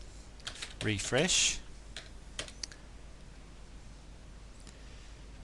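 Close, quick taps on a computer keyboard come in a short burst of several keystrokes, then scattered single clicks, while a voice speaks briefly over part of the typing.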